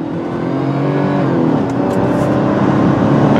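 A 2002 Chrysler Sebring LXi convertible with a 2.7 liter V6 accelerates, its engine droning loud and close with a steadily climbing pitch, no talking.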